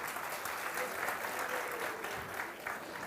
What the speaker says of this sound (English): Give a clap to these guys.